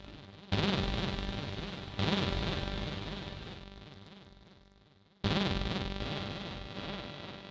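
Three loud chords from the TAL NoiseMaker synthesizer strike in turn, each washed in reverb that decays slowly into a long shimmering tail before the next one enters.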